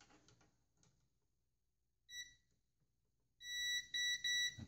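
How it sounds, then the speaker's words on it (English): A multimeter in continuity mode checking a ground pin on a PC build gives a short high electronic beep, then a longer sustained tone broken by small gaps, close and clear in a quiet room. "Okay, continuity mode."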